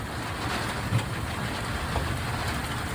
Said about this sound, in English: All right, we got the rain.